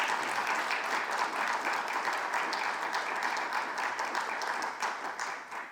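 An audience at a talk claps steadily to thank the speakers, a dense, even wash of applause that keeps going at moderate volume and tapers off near the end.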